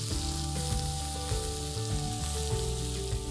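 Ginger-garlic paste sizzles loudly and steadily in a tablespoon of hot oil in a pan, a continuous close crackling fry heard alone.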